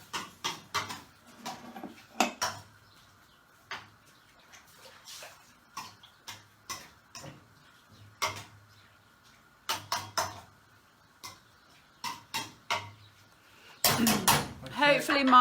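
Thai green curry ingredients stirred in a pot, heard as scattered clinks and scrapes of a utensil against the pot in an irregular rhythm, with a louder clatter at the end and some soft talk.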